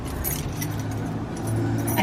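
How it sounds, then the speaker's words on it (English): Several keys jingle and clink close by against a steady background hum as someone tries them one after another in the door locks of a newly bought duplex. "none of these keys are working right now"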